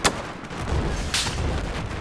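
Sniper gunfire in the Battlefield 4 video game on the Gulf of Oman map during a rush match: a sharp shot opens, then a dense, rumbling barrage of distant game gunfire and explosions continues throughout.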